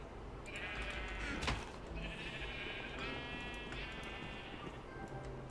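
Sheep in the Minecraft video game bleat in a run of several wavering, nasal calls close up, one after another over a soft steady background.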